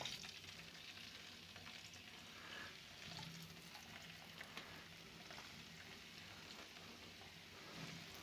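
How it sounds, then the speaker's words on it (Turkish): Potatoes fry in hot oil in a pan on a stove, a steady, dense, crackling sizzle that holds at an even level throughout with no voices. "Arkadaşlar yağ kızarmaya başladı. Şimdi su patatesleri atam yavaş yavaş."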